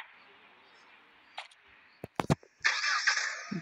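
A car engine starts before driving off, with a few sharp clicks and thumps followed by a sustained, moderately loud rumbling start-up at the end, heard outdoors over faint background noise.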